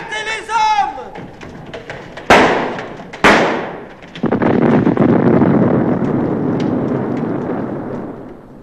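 In an audio drama, a grenade explodes and sabotages a ship's engines: a voice calls out, two sharp, loud blasts crack, then a long roaring rumble swells and slowly fades.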